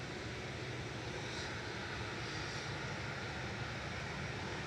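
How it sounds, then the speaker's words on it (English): A Boeing 787 Dreamliner taxis at Manchester Airport, its engines a steady, broad, distant roar holding evenly throughout with no talk over it. "Another 2E Dreamliner just taxiing over as well."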